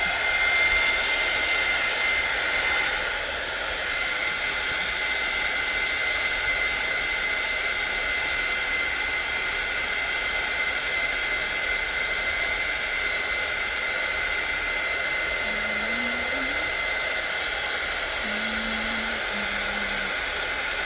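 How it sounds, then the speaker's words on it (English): A heat gun blows a steady, loud, even whoosh of air while drying a large fabric tag, holding unchanged for about twenty seconds with a few faint squeaks near the end and no voices. "I am going to take my heat gun to this just very quickly"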